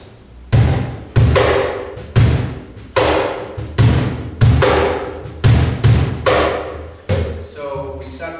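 A cajon struck in a steady groove of about ten sharp, loud hits, deep bass thumps mixed with brighter slaps, each ringing briefly before the next, played alone with no talk.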